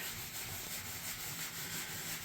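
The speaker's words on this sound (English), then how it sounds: "she's starting with the sanding here" Steady, even rubbing and hissing of wet sanding against drywall, a continuous close scrubbing sound with no pauses or voices.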